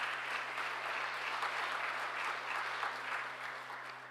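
Audience applause at an awards ceremony, a steady wash of many hands clapping at even strength across the whole stretch, easing slightly at the end.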